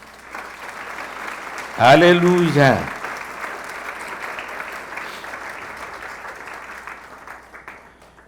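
A church congregation applauds at a Spanish-language service after a pastor's call to praise, with steady clapping throughout and a brief loud burst of a voice crying out over it midway.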